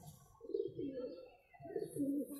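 Tower pigeons kept by a hobbyist cooing close by: two soft, throaty rolling coos separated by a short pause, fairly quiet and with no talk over them.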